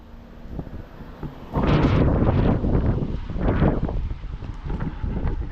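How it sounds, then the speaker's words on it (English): Gusty outdoor wind buffets the microphone on a country walk in Maine, starting as a soft rumble then surging into loud, uneven roaring blasts that rise and fall for several seconds. "it's windy"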